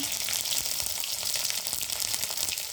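Chopped onion and garlic paste fry in hot oil with cumin in a nearby pan, giving a loud, steady, close hiss and crackle with no voices over it.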